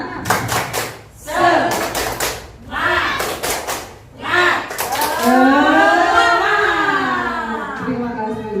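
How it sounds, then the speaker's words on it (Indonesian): An audience at an Indonesian elementary school gathering claps in quick rhythmic bursts of 'tepuk semangat', several clapped phrases in a row, with voices chanting along over the steady patter. "Saya ingin Bapak Ibu memberikan tepuk semangat."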